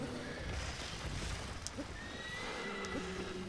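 A horse in the Shadow of the Colossus video game lets out a drawn-out whinny over a steady wash of game ambience, with faint hoof clops beneath.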